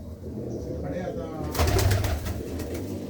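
Large pigeons kept as a hobby in a Punjab loft near Mansa give low, throaty coos close by, a few soft rolling calls amid background rustle and faint voices.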